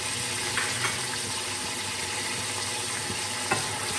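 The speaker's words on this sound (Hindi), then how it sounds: "चिकन को हम फ्राई कर लेते हैं।" Chicken frying in a pot with tomatoes, green chilies and ginger, a continuous dense sizzle with faint stirring clicks and scrapes, close and steady with no talk.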